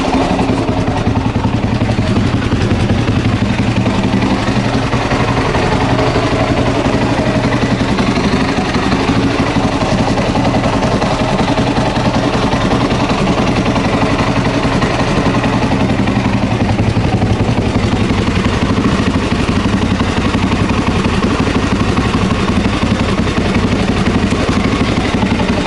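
Honda XR600R motorcycle engine running steadily at close range, a loud, continuous throbbing with mechanical clatter and no break across the whole stretch.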